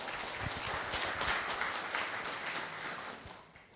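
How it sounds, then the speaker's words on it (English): A tech conference audience applauds after a talk is introduced, a dense, fairly soft wash of many hands clapping that holds steady and then tapers off toward the end. "So a round of applause for Andrea."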